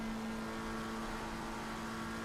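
Steady engine drone of a McLaren GT3 race car in a sim racing game at Kyalami, a continuous high whine held at constant revs with no talk over it.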